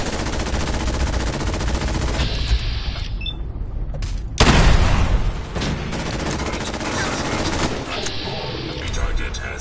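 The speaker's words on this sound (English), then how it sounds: "Weapons discharge." Fallout 4 gunfire, rapid loud bursts of automatic weapon shots with a heavy boom midway, continuous and close, with a voice speaking over parts of it.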